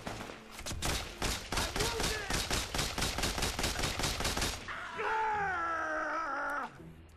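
Automatic gunfire in Mercenaries 2 rattles in a rapid, evenly spaced burst of loud shots lasting several seconds, then stops and gives way to a wavering groaning cry.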